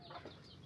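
A mother hen, broody with a fresh batch of eleven hatched chicks, gives a few short soft clucks close by in a brief burst.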